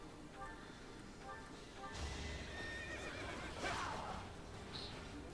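A horse in the video game Fire Emblem: Three Houses lets out a loud whinny. Game music and clip-clop hoofbeats play under it.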